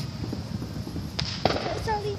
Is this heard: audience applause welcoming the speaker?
no